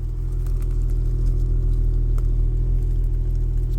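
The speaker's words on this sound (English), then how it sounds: "just listen to the sound of that exhaust" A Honda Accord V6 coupe sits idling with a very quiet, steady low exhaust hum, close by and unbroken, with a few faint light clicks over it.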